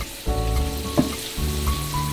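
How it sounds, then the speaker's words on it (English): Butter melting in a pan to be clarified sizzles with a steady, close frying hiss, broken by a brief spatter near the middle, and no voices are heard. "Let me take all the impurities out and clarify the butter for you."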